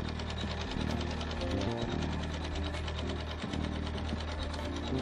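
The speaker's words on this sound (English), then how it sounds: "it's going to stitch some decorative stitches" An embroidery machine stitches decorative stitches on a quilt block with 3D leaves, a steady fast mechanical whirring and needle-knocking rhythm that runs close and continuous without pause.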